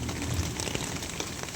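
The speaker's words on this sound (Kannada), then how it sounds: "ಇಷ್ಟು ಮಳೆ ಕೊಡ್ತಾ ಇದ್ದೀರಲ್ಲ" Heavy rain pours down steadily, a dense, even hiss of drops striking surfaces with no pauses and no voices.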